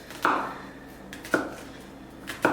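A kitchen knife chops through a red onion on a board with three evenly spaced, sharp strikes, each followed by a brief crunchy decay, close and clear with no talking.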